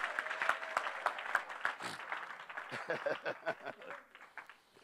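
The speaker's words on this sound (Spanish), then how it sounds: "dale un aplauso con vida que te pesa la mano" A church audience applauds in a dense patter of claps that thins toward the end, with voices mixed in beneath it.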